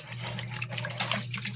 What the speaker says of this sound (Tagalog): basahin mo muna sa tubig